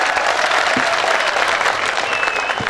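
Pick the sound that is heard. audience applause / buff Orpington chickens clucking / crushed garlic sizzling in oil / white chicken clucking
audience applause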